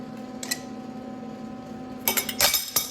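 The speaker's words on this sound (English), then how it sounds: "You dropped the crescent wrench." A crescent wrench drops during driveline work, landing around the two-second mark with a bright metallic clatter and a couple of quick rebounds. Before the drop there is only a faint click and a low background hum.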